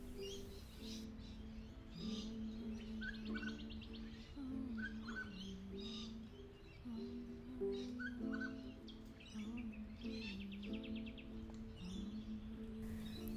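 Glossy black-cockatoos in a family group feed on she-oak cones, giving repeated soft chirps and calls over a steady background murmur, moderately close and continuing throughout.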